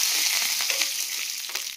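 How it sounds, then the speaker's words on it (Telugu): Mustard seeds, cumin, dried chillies and curry leaves frying in hot oil, a loud close sizzle with a dense hiss and scattered small pops and crackles, steady throughout and fading slightly at the end, with no voices. "ఎండుమిరపకాయ కరివేపాకు అయితే చాలా బాగా వేగాయి"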